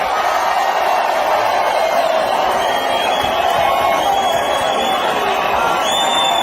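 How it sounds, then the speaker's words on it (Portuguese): Crowd at a conservative political gathering cheering and applauding for a priest, a continuous roar of voices and whoops at a steady level. "pedir uma salva de palmas para o nosso Padre Kelmo"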